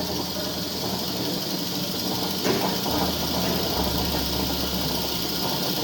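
Motor driving a DC generator in a lab, a steady mechanical hum and whir whose low drone strengthens partway through as the speed is raised toward about 1300 rpm.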